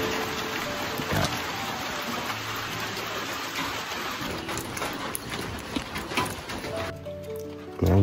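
Light drizzle falling in a Kenyan village, a soft steady patter with scattered drops tapping nearby surfaces, fairly quiet and continuous, with a few louder knocks and no clear talking.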